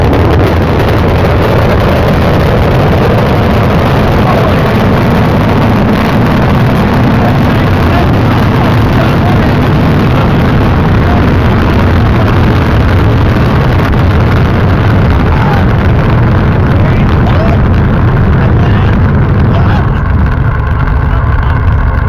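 A SpaceX Starship Super Heavy booster's engines ignite with a continuous, very loud low roar that saturates the sound, heavy wind-like rumble running unbroken and dropping slightly near the end.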